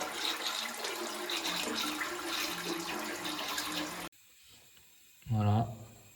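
Water rushes and overflows inside a toilet cistern after its float valve burst: a steady, close hiss and gush of water for about four seconds, then a quiet pause and a voice speaking.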